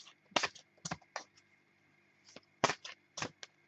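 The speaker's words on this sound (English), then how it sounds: "I shuffle until the card pops out to me." Tarot cards being shuffled by hand, heard as a series of sharp, close clicking and flapping bursts in uneven clusters with quiet gaps between, no talking.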